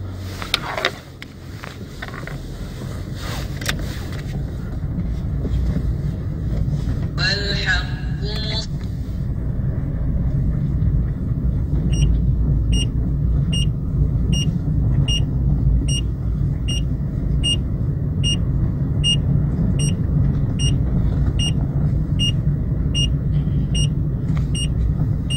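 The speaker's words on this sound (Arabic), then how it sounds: "صوت المحرك عادي يعني ما فيش مشكل" A car with its oil pressure warning light on idles steadily with a low, even rumble, close and continuous, while a regular series of high beeps chimes in the cabin and a voice talks briefly near the start.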